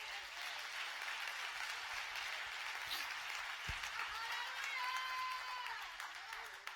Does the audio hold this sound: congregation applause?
yes